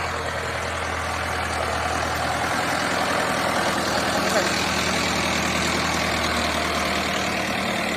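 A tractor pulls a seed drill across a field while sowing golden peas, its engine labouring under load. It gives a steady, close, droning low rumble with no breaks.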